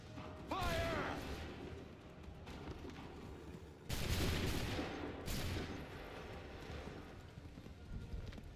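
Musket volley in Assassin's Creed III, sharp crackling gunfire bursts at two or three moments amid battlefield rumble, hoofbeats and a shouted voice, moderately distant and fairly quiet overall.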